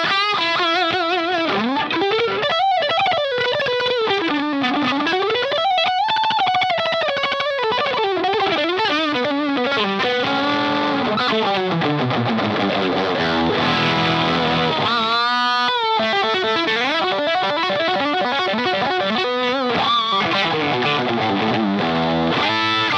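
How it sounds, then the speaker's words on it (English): Electric guitar played through a boost pedal and noise gate, pushed just into overdriven grit, with sliding, bending melodic lines and strummed chords that stop dead between phrases, loud and alone. "So I would engage boost and the noise gate, so that I get kind of a push over the edge."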